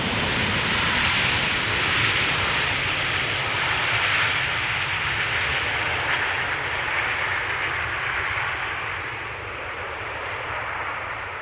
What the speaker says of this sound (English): KLM flight 1030 arriving from Persenchester.